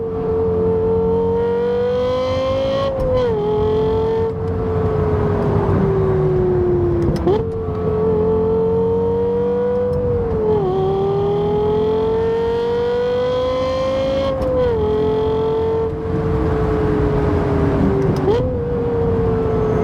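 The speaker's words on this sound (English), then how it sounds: "This car just screams." A Lexus LFA V10 revs hard while being driven, a loud, piercing engine wail that climbs and drops through repeated gear shifts, sustained and close from inside the cabin.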